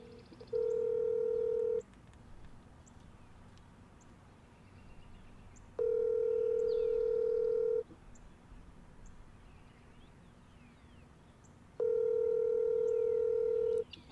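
Outgoing phone call ringing tone, three steady electronic rings of about a second and a half each, spaced several seconds apart, with faint room background and some speech between them.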